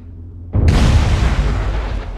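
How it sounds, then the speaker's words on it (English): A loud explosion in the space strategy game Endless Space 2: a sudden heavy boom that bursts in after a quiet lead-in, then rolls on as a dense, broad rumble with no speech. "I thought I'd better wait for the explosion because it's quite loud."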